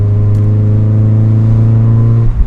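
A Mazda MX-5 NA roadster with its top down holds a loud, steady engine note at close range, droning without a break before easing slightly near the end.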